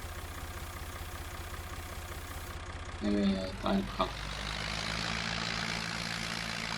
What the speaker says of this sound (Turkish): Bu bizim taşıma traktörü çiftliğin içinde.